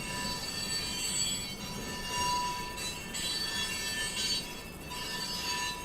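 A passing train with squealing wheels, a steady rolling rumble and high metallic squeal running continuously and fairly loud throughout, with no voices.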